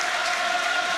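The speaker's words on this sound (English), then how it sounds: "That's why he's getting the applause." Stadium crowd applauding a rugby player's 154th match for Munster against the All Blacks, a dense steady wash of clapping that fills the brief moment without a break.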